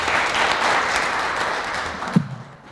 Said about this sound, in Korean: 여러분 다시 한번 큰 박수로 환영해 주시겠습니까?